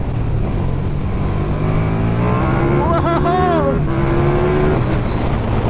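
KTM 2019 Super Duke GT motorcycle engine accelerating hard, loud and close, the revs climbing through a sharp rising pitch sweep before settling into a steady strong drone.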